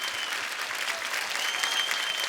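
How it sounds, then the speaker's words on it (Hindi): A studio audience at a comedy show claps energetically to welcome actor Irrfan Khan onto the stage, a dense, even burst of applause throughout. "आपकी जोरदार तालियों के बीच स्वागत करना चाहूंगा मिस्टर इरफान खान का।"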